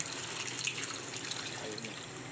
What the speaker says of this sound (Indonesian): Kita akan kita saring untuk kita pisahkan sari pati dengan